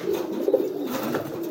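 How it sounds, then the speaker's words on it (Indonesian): Domestic pigeons cooing close by as they are released from their loft, soft low rolling coos repeating over a brief moment. "Sambil saya keluarin nih merpati-merpati saya."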